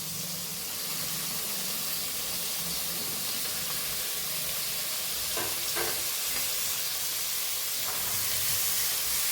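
Paneer cubes sizzle in a pan on lowered gas while making paneer mushroom malai, a steady close hiss throughout with a couple of brief stirring scrapes midway.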